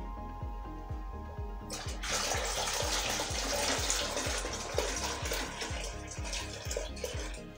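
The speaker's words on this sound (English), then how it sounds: "I'll hang this up and then we'll fill this with water." Water gushes into a hanging filter bag after a quiet start, a steady rushing pour over a regular low pulsing.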